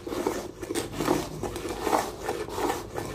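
An object is rubbed in a steady hissing scrape, with soft rhythmic rasping strokes repeating close by at moderate volume, with no speech.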